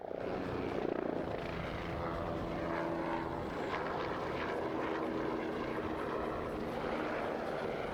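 A military reconnaissance helicopter, a Kiowa Warrior, flies low at the Croatian International Airshow in Varaždin. A steady, dense rotor and engine roar holds for the whole stretch at middle distance, with no speech.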